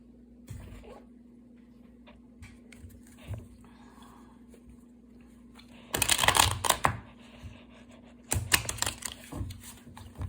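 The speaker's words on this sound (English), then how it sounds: "I'm going to just do a couple more shuffles" Two short bursts of tarot card shuffling, a riffle near the middle and another toward the end, with quiet handling sounds and a steady low hum between.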